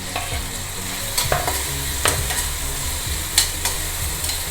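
Onions and tomatoes sautéing in a pan for rava semiya kichadi: a loud, continuous close sizzle with repeated scraping clicks of stirring throughout.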